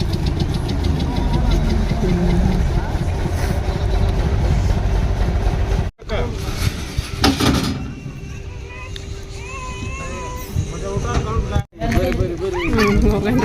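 A river steamer's engine on the Tungabhadra river chugs loud and close in a steady, knocking drone, with two brief dropouts, while people talk over it.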